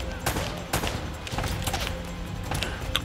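Sniper gunfire crackling in Uncharted: Drake's Fortune, several sharp shots at irregular intervals amid a busy barrage of game combat noise.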